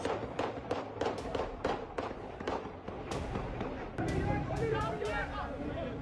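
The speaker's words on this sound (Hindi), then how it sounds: "और पिस्तौल से भी फायरिंग की गई है, छोटे पिस्तौलों से। सिविल लोग भी यहाँ पर फायरिंग कर रहे हैं।" Sharp cracks of small-pistol gunfire ring out in a quick irregular series during violent street protests in Pakistan-administered Kashmir, with crowd noise and speech running underneath.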